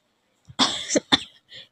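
A person chokes and coughs after drinking water, two or three sharp, close coughs followed by a softer throat-clearing sound, with no other noise around it.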